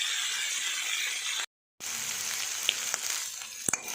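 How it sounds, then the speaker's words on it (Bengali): Onions fry in hot oil with shrimp and dried chili, a close, continuous sizzle that cuts out briefly, then resumes with a few sharp clicks of stirring, no voices. "পেঁয়াজটা ভাজা হয়ে গেছে,"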